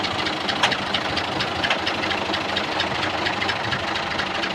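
A tractor engine idles with a steady, rapid knocking chug, close and continuous throughout with no break.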